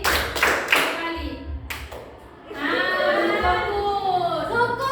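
Schoolchildren in a classroom clapping hands on a teacher's count: a few sharp group claps up front, then children's voices chattering over the room.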